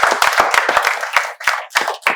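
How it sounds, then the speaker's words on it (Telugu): Students in a spoken English classroom clapping together in a loud, close, uneven run of sharp hand claps with brief gaps, no talk. "చప్పట్లతో స్వాగతం తెలియజేశారు విద్యార్థులందరూ"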